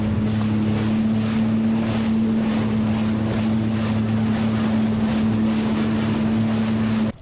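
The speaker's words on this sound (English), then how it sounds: "Motor is holding us really, really good out here." A boat motor idles steadily on open water while fishing near crab traps, holding the boat in place. It makes a constant low hum under gusts of wind noise and lapping water for the whole stretch, with no talk.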